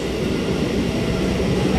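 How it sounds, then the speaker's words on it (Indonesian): A dense, rumbling rush of a KRL electric commuter train moving past nearby at Gambir Station, Jakarta, steady and loud with a low rolling roar across the whole short stretch. "Oh, ada KRL lagi nih lewat."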